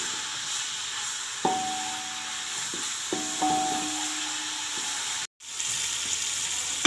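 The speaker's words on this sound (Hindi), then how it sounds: "घी जब जब गर्म हो तो इसमें प्याज डाल लें। इसको 3-4 मिनट फ्राई करते हैं।" Onions sizzle steadily in hot ghee, with a few clinks of a utensil against the pan and a brief dropout near the end.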